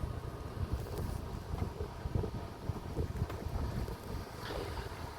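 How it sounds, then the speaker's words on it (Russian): Breeze blows across a mountain viewpoint at the Silver Gazebo above Yalta, producing a gusty, buffeting low rumble of wind against the microphone that rises and falls irregularly, fairly faint and continuous. "Тут прохладненько, хорошо, ветерок."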